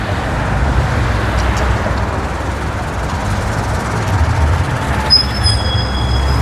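Busy city intersection in Sofia, Bulgaria, with trams and trolleybuses passing, a steady loud traffic rumble throughout and a brief high squeal near the end.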